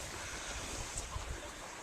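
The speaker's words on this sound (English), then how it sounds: "And you just hear the water trickling by." Water flowing at an old quarry entrance, a steady broad wash of running water heard alone, constant and moderately close with no voices.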